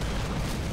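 A rocket explosion in the video game Rise of the Tomb Raider, a brief, loud, broadband blast that roars for under a second.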